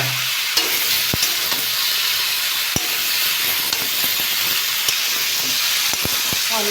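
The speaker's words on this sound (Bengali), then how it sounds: "করলার সঙ্গে ভালো করে কষে নেবো।" Potatoes and bitter gourd frying with prawns in a pan, a loud continuous hiss of sizzling oil with intermittent clicks and scrapes of a spatula stirring, no one speaking.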